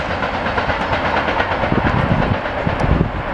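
A Norfolk Southern southbound intermodal freight train passes at a road crossing in Columbus, Ohio, with loud, close, continuous rumble, wheel clatter and hiss throughout.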